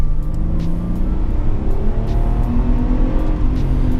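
A Mercedes E320 with a V6 petrol engine accelerating in second gear, a loud, close engine drone rising steadily in pitch over a few seconds with no talk.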